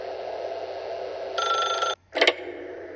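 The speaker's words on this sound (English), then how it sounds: "If you can truly place your faith in another, then pick up the phone." An old-style telephone bell in the video game The Stanley Parable rings in a sharp electric burst, stops, then rattles again briefly under a steady ambient hum.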